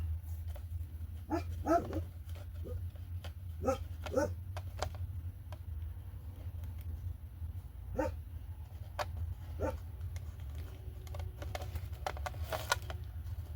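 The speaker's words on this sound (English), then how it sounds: "That's why he's barking." A puppy barks indoors in short, scattered bursts over a steady low hum, with sharp yips spread across the stretch and a few clustered near the end.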